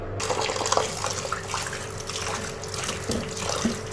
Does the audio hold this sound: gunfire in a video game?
no